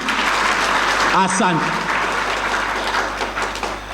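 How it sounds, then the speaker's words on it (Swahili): A church congregation applauds during a Sunday Lenten sermon, steady clapping filling the room for the whole stretch while a voice speaks briefly over it. "Makofi kwa Mwenyezi Mungu. Mengi sana. Piga makofi."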